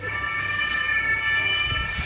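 An ambulance siren wails steadily in road traffic, a loud continuous tone held throughout with faint traffic rumble beneath.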